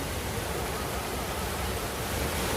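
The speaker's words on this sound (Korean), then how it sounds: "이렇게 천문에서 폭포가 내려옵니다" A constant, loud roar of rushing water from Cheonmun Falls on Suraksan, swollen by recent rain, broad and unbroken like falling water close by, with no voices.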